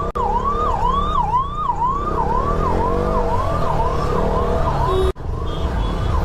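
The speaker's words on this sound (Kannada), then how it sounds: "ಸ್ವಲ್ಪ ಆಂಬುಲೆನ್ಸ್ ಬರ್ತೈತೆ" An emergency ambulance stuck in Bengaluru traffic sounds its siren loud and close, a repeating rising-and-falling wail in quick regular sweeps that runs unbroken over low traffic rumble.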